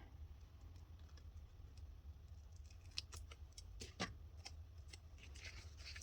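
Scissors snip through planner sticker paper in a few faint, sharp cuts, quiet crisp clicks spaced about a second apart over a soft low room hum, with no one talking.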